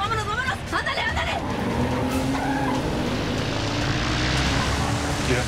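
A light propeller plane revs steadily as it accelerates to take off, its engine drone continuous and fairly loud while voices shout excitedly over it.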